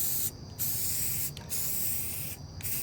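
Rust-Oleum Rusty Metal Primer sprays from an aerosol can in three short, close hissing bursts, with brief pauses between them, during a Corvair Lakewood dash restoration.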